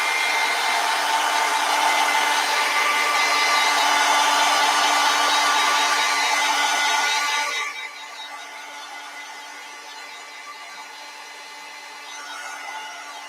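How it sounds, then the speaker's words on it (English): A heat gun dries paint on a mermaid-in-a-lily-pond painting, blowing a loud, steady whooshing roar for about eight seconds before dropping to a quieter hum. "we'll give this a dry with heat gun"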